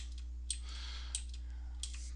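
Typing on a computer keyboard during MATLAB work, a few sparse, faint key clicks spaced apart over a steady low hum.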